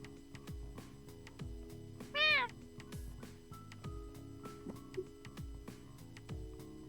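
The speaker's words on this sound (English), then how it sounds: "It is a simple meow, but it sounds like a proper response to my ears." A cat meows once in the video game Fatal Twelve, a single clear call alone over a soft, steady musical background with faint ticking sounds.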